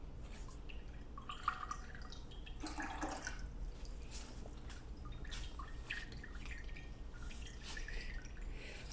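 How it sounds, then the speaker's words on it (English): Water overflowing a small water filter container, a faint, steady trickle with scattered soft drips over a low background hum. "we are full of water, so we forgot the container is small. We are having an overflow."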